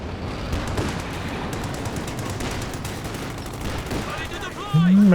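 A mortar barrage in Company of Heroes 2 sends out a dense, continuous stream of rapid thuds and cracks at steady loudness, with a voice cutting in near the end.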